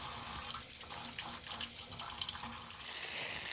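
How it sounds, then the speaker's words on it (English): Tap water runs steadily into a sink as hands are washed with soap while cooking chicken in a kitchen, a continuous close splashing hiss with a faint low hum beneath. "re-wash your hands with soap and water"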